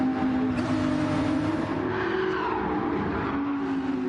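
AO Racing Porsche race car in its team livery on the Goodwood circuit in a Gran Turismo-style racing game, with a steady, loud engine drone held at high revs throughout.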